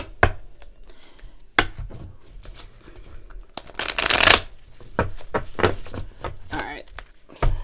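A deck of tarot cards being shuffled close by, with several papery riffles and slaps and one loud riffling burst in the middle, under a voice talking.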